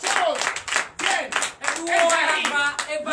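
A church congregation claps in acclamation during a night deliverance and prophecy service, steady hand claps mixed with loud shouting and raised voices throughout.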